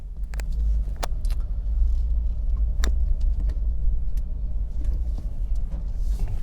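A Nissan Leaf crawls through New York City traffic, a steady low road rumble and tire noise filling the cabin, with faint clicks and rattles scattered over the continuous drone.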